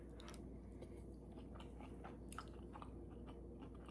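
Someone chews a bite of meatloaf close to the mic, with soft, quiet mouth sounds and faint squishy bites repeating over a low background hum.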